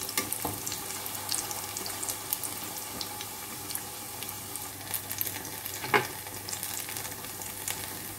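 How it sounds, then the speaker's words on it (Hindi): Moong dal and onion pakoras frying in hot oil and being turned: a steady, moderate sizzle runs throughout, with light bubbling crackle and one sharper knock partway through. "पलट पलट के इसे फ्राई करेंगे जब तक ये गोल्डन ब्राउन ना हो जाए।"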